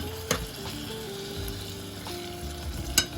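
Food sizzling gently in a non-stick pan during salmon dinner cooking, a soft steady fry with a few sharp clinks of a utensil stirring, fairly quiet and without talk.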